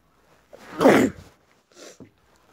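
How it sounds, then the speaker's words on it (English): A single loud, close sneeze bursts out, followed by a softer breathy exhale, in an otherwise quiet room. "that horrible sneeze though"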